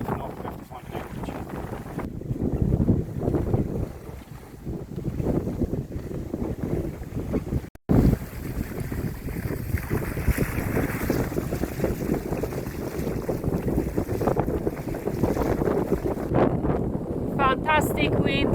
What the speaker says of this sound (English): About 20 knots of wind, it was just up to 24.